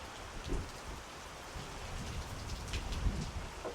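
Heavy rain from Hurricane Milton drums steadily in a thick, close hiss, with occasional heavier splatters and no voices.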